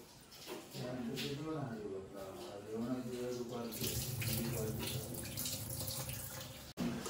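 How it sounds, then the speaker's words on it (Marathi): Water runs steadily from a tap into a sink as parboiled ration rice is rinsed to make Malvani amboli batter, with a continuous splashing flow and a voice speaking over it. "आता आपण स्वच्छ धुवून घ्यायचे 2दा"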